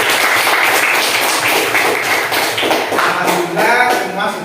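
Students clapping in a classroom, a steady dense patter of hands filling the room throughout, close and fairly loud with no break.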